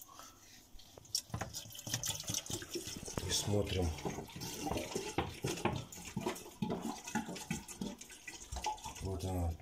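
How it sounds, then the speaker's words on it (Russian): Water is poured into a sewer pipe during drain cleaning, giving a close, trickling and splashing flow under a voice speaking in Russian. "Теперь наливаем водичку"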